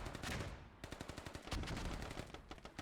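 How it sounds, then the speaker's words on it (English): Dense, continuous battlefield gunfire and heavy thudding blasts in a multiplayer strategy video game match, consistent with mortars pounding a palace area, with rapid repeated impacts layered into a loud, busy din. "There's a lot of mortars going down"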